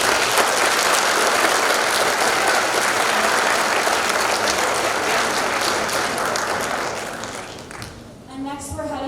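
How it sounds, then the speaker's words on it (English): Audience applause at a school spring concert: sustained, dense clapping from a large crowd, steady and loud throughout, fading near the end as a voice begins to speak. "You can give them one more round of applause."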